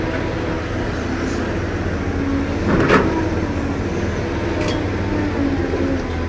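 Heavy machinery engine droning steadily nearby as an excavator dredges soil in a river basin, with a continuous low rumble and brief clanks of the working equipment.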